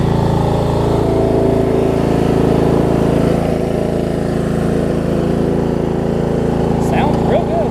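Steady drone of a small engine idling and running on a cheap used Murray riding lawn mower with flat tires, loud and close, continuous throughout with someone talking faintly beneath it.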